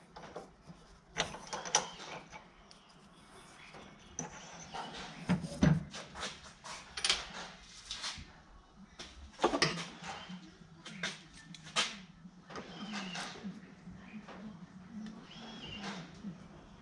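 A lathe in a home machine shop turns slowly while an intermediate tap cuts a thread through a hole, producing quiet, irregular mechanical clicks and ratcheting knocks with brief pauses in between, close and fairly faint.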